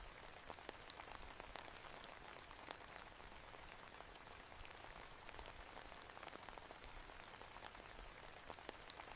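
Steady rain falling on surfaces in a misty town street, a dense continuous patter of drops with no voices, holding an even, moderate level throughout.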